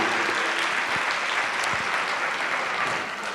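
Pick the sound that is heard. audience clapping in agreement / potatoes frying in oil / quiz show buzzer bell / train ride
audience clapping in agreement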